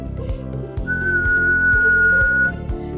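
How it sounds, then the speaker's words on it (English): A person whistles one steady, sustained pitch roughly matching an open G, held clear for well over a second over an accompanying background. "if you can whistle the same pitch as an open G, I've found that that's a good pitch to whistle to"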